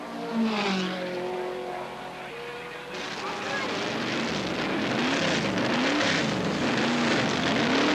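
Can-Am race cars at Mosport in 1983 roar past, engine notes droning and sweeping up and down in pitch as they pass, with a commentator talking throughout.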